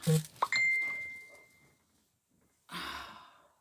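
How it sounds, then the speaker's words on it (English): A short bright ding rings once near the start, after a soft breath, then quiet, followed by a burst of rustling noise. "my phone is always blowing up here"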